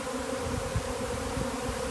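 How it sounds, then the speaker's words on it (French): A swarm of thousands of honey bees buzzes around a beekeeper in a steady, dense drone, close and continuous with no talk. "Là je suis au milieu de milliers d'abeilles"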